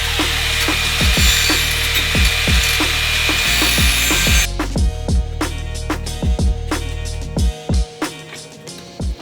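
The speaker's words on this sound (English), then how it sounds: "I'll hit it with a flap disc real quick just to clean it up" An angle grinder with a flap disc cleans up freshly cut metal during a 2022+ Subaru WRX Perrin oil cooler install: loud continuous grinding hiss that cuts off midway, followed by a series of sharp clanks and knocks nearby.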